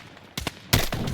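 Heavy machine gun fire in the Battlefield 6 video game, two short rapid bursts close and loud, the second louder and longer, rattling against a quiet battlefield background.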